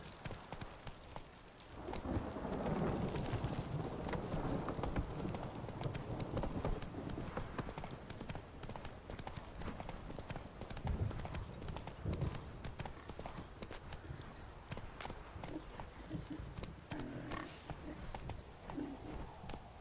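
Horse hooves clip-clop in steady, rapid rhythm as a horse is ridden in The Witcher video game, loud and continuous throughout, with voices heard over the hoofbeats.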